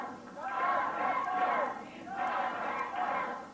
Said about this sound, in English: Crowd getting in behind Dutch Mantell